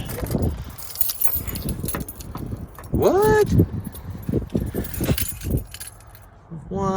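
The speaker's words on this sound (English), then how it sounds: "Oh, dropped your keys." A set of keys drops and jangles in a brief metallic clatter, mixed in among nearby talking voices and general background bustle.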